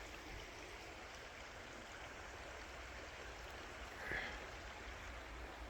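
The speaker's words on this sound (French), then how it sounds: "Petite rivière, regardez." Steady broadband rushing of a small stream flowing continuously through muddy ground in Ardèche, moderately close, with no voices.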